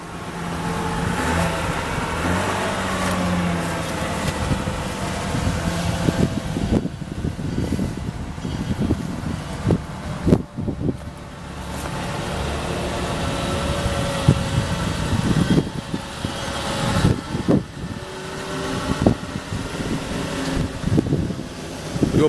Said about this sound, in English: You'll pull the vehicle forward.